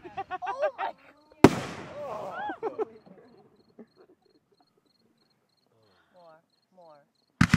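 Large 6-inch shells at a Fourth of July fireworks display burst with a sharp, booming crack followed by crackling decay, people exclaiming around it, then a quiet stretch with faint chirps before another loud boom at the end.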